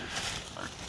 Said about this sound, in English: We've got pigs all through here